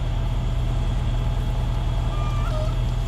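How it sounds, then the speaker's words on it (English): Truck passing during a storm chase in Missouri, a loud, continuous low rumble and engine drone throughout, with faint higher tones drifting in near the end. "What was that noise? That truck"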